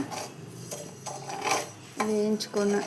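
Finger millet (ragi) dry-roasting in a pan for ragi laddus, heard as a run of dry scraping and clinking strokes from stirring, with a brief tonal ringing toward the end and no talk.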